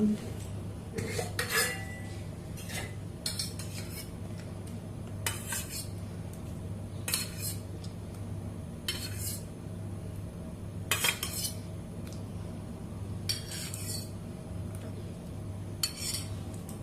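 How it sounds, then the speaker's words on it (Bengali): Ash gourd being mixed with yogurt and salt in a pan, a spoon clinking and scraping against metal in irregular bursts, close and moderately loud over a faint steady hum. "এটা টক দই দিলাম এবার সব কিছু ভালো করে মেখে নেবো"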